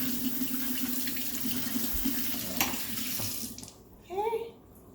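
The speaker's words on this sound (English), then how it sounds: "we're just gonna give it a good rinse with cool water" Cool tap water runs steadily over tomato seeds in a strainer, a continuous moderate hiss and splash that stops abruptly near the end, followed by a brief squeak and clatter.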